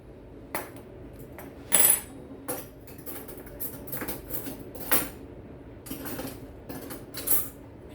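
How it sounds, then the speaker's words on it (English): Knife and fork clink and scrape against a plate while a piece of orange beef in sauce is cut, with irregular close taps and a few louder metallic strikes spread across the clip. "Cut a piece off my knife with my fork."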